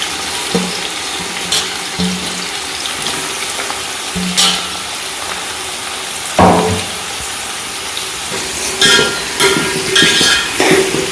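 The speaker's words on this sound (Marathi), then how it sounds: "आता आपण कांदा घेऊ तळून घ्यायचा." A large batch of onions fries in plenty of oil for Maharashtrian kala masala. A steady sizzle and hiss runs throughout, broken by several stirring clatters and scrapes, with no talking.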